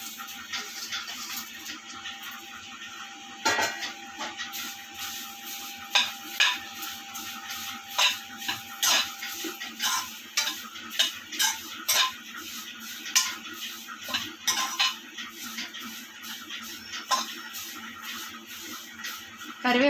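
Ponnaganti leaves are fried in oil in a pan, with a soft sizzle under repeated scraping and clinking strokes of a metal spoon.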